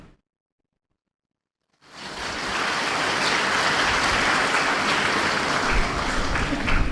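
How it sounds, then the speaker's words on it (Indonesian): Graduation ceremony audience at Universitas Padjadjaran bursts into applause after a short silence, a broad, steady wash of many hands clapping that holds evenly to the end. "Tepuk tangan ini saya anggap setuju"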